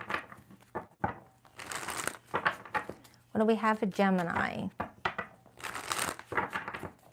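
Tarot cards being shuffled in bursts of crisp riffling and shuffling noise, close and fairly quiet, interleaved with someone talking.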